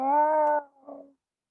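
A voice imitates a cat for a home re-enactment of Hocus Pocus, giving one long, clear, sad meow followed by a shorter, softer trailing mew, close and alone.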